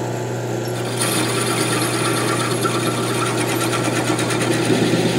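A wood lathe turning a shaving brush handle, with a steady whirring mechanical drone and a rattling cutting texture that thickens after the first second, loud and continuous with no talking.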